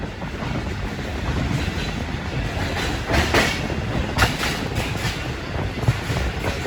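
The Khushal Khan Khattak Express rolls through Ring Road railway station with a steady rumble and rhythmic clickety-clack of wheels on rails, broken by a few sharper clanks, with no voices.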